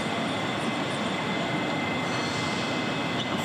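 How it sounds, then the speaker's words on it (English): A train pulls into Glasgow Central station with a steady loud rumble of wheels on rail and faint squealing throughout, and no voices are heard. "Time to get off the train. This is Glasgow Central."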